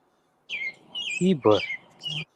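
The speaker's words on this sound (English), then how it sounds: "who's chirping birds?" Birds chirping nearby, a few short bright tweets and a quick rising call over roughly two seconds, overlapping a voice.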